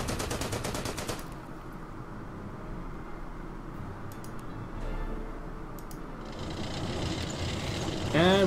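Rapid bursts of machine-gun fire and gunshots in the WWII strategy game Order of Battle, a dense rattling volley at the start, then scattered shots over a low rumble of battle.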